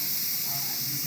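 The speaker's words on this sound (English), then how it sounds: "You can kind of hear the steam's getting less and less." Steam hisses steadily from a Pampered Chef Quick Cooker pressure cooker making vegetable beef soup, a continuous close, soft broadband hiss with a faint low hum underneath.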